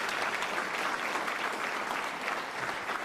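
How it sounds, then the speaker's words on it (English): Steady applause from an audience at a Philadelphia mayoral announcement about a proposed 76ers arena, even dense clapping that holds at a fairly distant, moderate level throughout. "Give that a round of applause, please."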